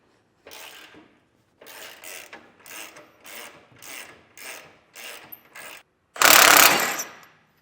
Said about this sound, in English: we'll remove our panhard rod bolt, just the one on the driver's side, right below the coil spring there. And we'll use a 19mm socket for that.